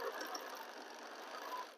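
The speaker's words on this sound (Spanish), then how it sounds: "Aquí ya voy por el último tramo de mi costura" Sewing machine stitching fabric for a quilt block, a faint, rapid continuous mechanical whir and ticking, steady throughout with no talk.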